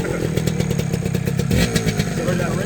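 The engine of a nearly new 1976 Harley Davidson SXT125 motorcycle, running close by in a steady, rhythmic putter with a slight clatter, while a voice talks over it.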